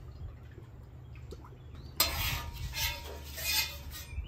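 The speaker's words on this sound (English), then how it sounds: "And now we're looking to sear all sides" Steak bites searing in avocado oil on a flat griddle: faint scraping at first, then a sudden loud sizzle bursts in and swells in waves as the meat hits the hot surface.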